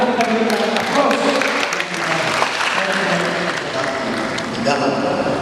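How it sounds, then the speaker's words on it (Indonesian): Sustained audience applause at a parish family seminar marking an 80th jubilee, dense steady clapping from a crowd filling the whole stretch, loud and even, with voices faintly mixed in. "Mari kita berikan aplaus."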